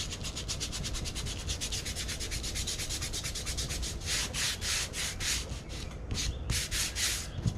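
Wood is sanded by hand in quick, rhythmic rasping back-and-forth strokes, close and steady, the strokes turning heavier and more spaced out toward the end.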